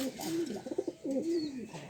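A racing pigeon coos close by in a series of soft, throaty, rolling calls that rise and fall over a steady low background.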